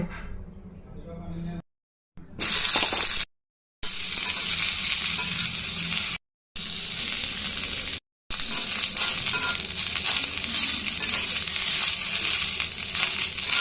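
Boiled flat beans fry in a spoonful of oil in a wok (kadai), making a continuous close sizzle with stirring scrapes, broken by several abrupt short silences.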